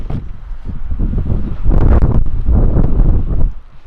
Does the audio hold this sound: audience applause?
no